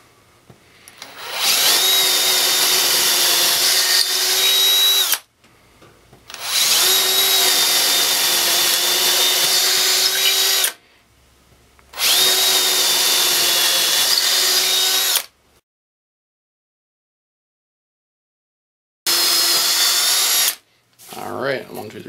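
Bosch DDS181-02 cordless drill on a fully charged battery driving 3-inch screws: loud, close whirring bursts of a few seconds each, three long runs and a shorter fourth, separated by brief silent pauses.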